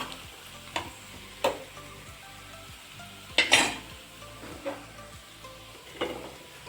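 Paneer pieces frying in a pan, a soft steady sizzle broken by several sharp clinks and scrapes of a spatula against the pan, no voices.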